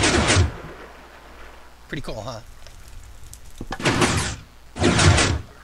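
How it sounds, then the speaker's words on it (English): Row of Minecraft pistons firing to knock sugarcane reeds off a farm, heard as several quick mechanical clunks and whooshes in bursts over a few seconds, with a person talking briefly between them. "when I hit this switch, all these pistons will knock these sugarcane reeds off"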